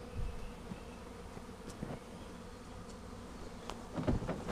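Many bees hover around a truck, their thick, unbroken buzzing close by, with a few louder passes as individual insects fly near.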